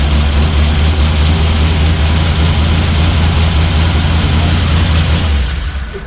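A 1936 Hudson Terraplane with a hot-rodded Ford flathead engine runs hard and close, a loud, steady low-pitched roar that holds for several seconds before tapering off at the end.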